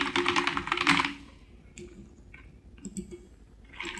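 Quick bursts of typing on a computer keyboard, dense clusters of close clicks with short pauses between, a few isolated taps in the gaps, no speech.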